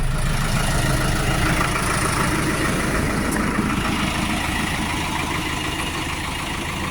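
A Solis 105 tractor engine idles close by, a continuous low rumble holding an even pitch throughout with no talking.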